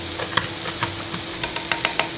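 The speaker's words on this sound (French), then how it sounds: "Et on racle bien le fond de la casserole." A utensil scraping the bottom of a pan after white wine is added while cooking chicken Vesuvio, with a series of short scrapes and stirring strokes over a soft background hiss of simmering liquid.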